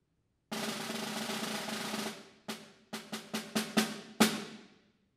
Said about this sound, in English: I use a 16th note triplet roll.